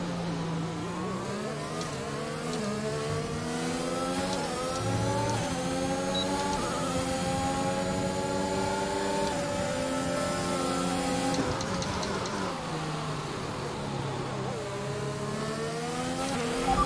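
A race car engine in a racing video game at Bahrain drones continuously, climbing and falling in pitch through gear shifts, loud and steady with a rising whine.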